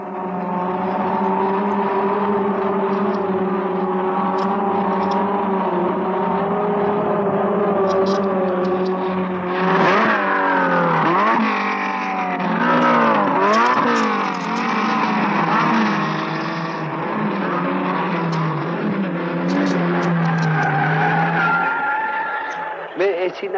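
A pack of blue Renault 8 Gordini race cars runs bumper to bumper on the opening lap, with engines droning loudly and tires squealing throughout while a commentator talks over the continuous roar.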